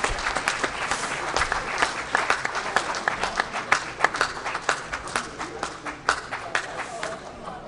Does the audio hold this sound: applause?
yes